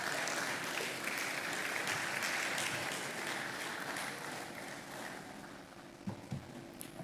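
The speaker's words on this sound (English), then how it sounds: "a warm round of applause for our partner, 𝗓𝗏metrics. Keep clapping." Audience at a retail congress giving sustained applause, a broad continuous wash of clapping that slowly fades a little, heard from within the hall with some low rumble.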